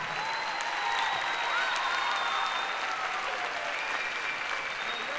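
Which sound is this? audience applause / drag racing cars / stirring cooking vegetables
audience applause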